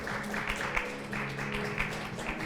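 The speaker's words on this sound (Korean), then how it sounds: "포항 MBC 양재혁 기자 박수로 단상 앞으로 모시겠습니다." Audience clapping to welcome a speaker to the podium at a Korean press event, a moderate, fairly distant patter of hands with soft bursts in loose rhythm.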